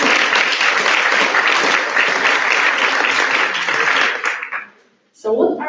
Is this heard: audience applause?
yes